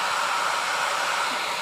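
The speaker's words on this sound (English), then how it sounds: "as it dries, the blow dryer curls them upwards" A blow dryer blasts a steady, close, loud whoosh while heating mascara fibers set in a beeswax transplanting gel, with no voices over it.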